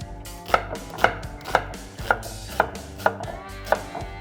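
A knife chopping food on a cutting board in a kitchen, with about eight evenly spaced, sharp, close thuds at a steady slow rhythm and no talking.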